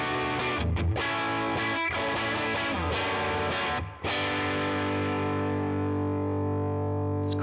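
Electric guitar through a Neural DSP Tone King Imperial first-stage overdrive, a run of driven picked notes and chords ending in a long ringing chord that fades, loud and alone.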